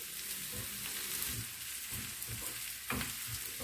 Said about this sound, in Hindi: तेल गरम हो चुका है। अब मैं यहाँ पे ये बारीक चॉप किया हुआ अनियन डाल दूँगी।